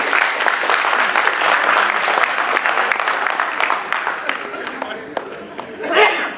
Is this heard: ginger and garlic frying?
no